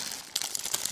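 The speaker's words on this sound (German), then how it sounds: "Das ist jetzt die dritte Tüte. Die werde ich jetzt wunderbar aufreißen." A plastic bag of Lego pieces is torn open close by, giving a burst of crinkly, crackling rips after a brief quieter rustle, with no talking.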